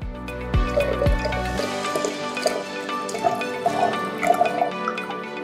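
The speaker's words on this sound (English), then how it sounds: "we will need to pour this through a sieve to remove all the sands if there is" A pandan panna cotta mixture for a dessert, made in a Thermomix kitchen, trickles and splashes steadily through a sieve after a couple of low thumps at the start.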